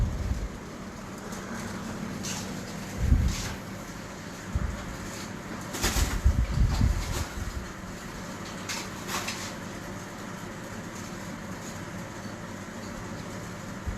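Soft coos and rustling from breeder pigeons come through a steady background hum, with a few brief louder bursts of movement and flutter in the middle.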